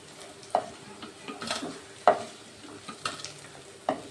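Jackfruit seed koftas frying in hot oil, a soft steady sizzle broken by a few sharp clinks and stirring sounds, close by with no voices.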